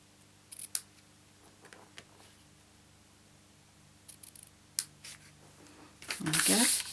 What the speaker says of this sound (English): Then I'll trim off the tails.